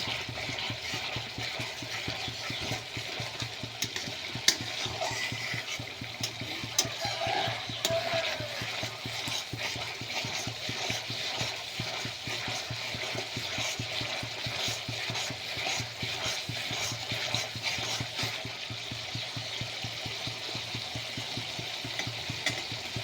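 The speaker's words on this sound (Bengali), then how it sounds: "মশলাটা ভালো করে কষে নিতে হবে।" Spice paste for a village-style country chicken curry sizzling and being stirred in a pan, a steady close frying hiss with scraping stirs and no talk.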